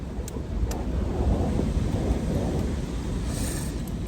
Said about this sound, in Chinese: 本来打算睡的，怎么这风越来越大了？